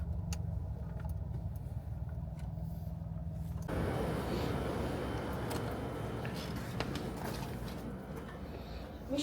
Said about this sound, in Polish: Ale dużo samochodów.